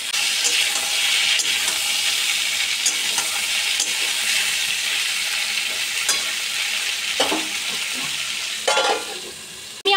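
Ridge gourd frying in a pan until soft for a Bengali aloo posto, a steady dense sizzle that runs unbroken and fairly loud, with a few clinks and stirring scrapes near the end.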